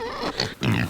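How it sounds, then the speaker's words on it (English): Pigs on a farm give a short burst of close grunting and oinking, two quick rough snorts in under a second. "That's how I can show you my pigs."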